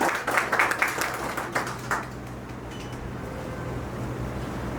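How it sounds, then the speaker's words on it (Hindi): An office audience at a company event claps loudly for an employee for about two seconds, then the applause fades into a low steady room hum. "एक बार जोरदार तालियां जयदीप जी को।"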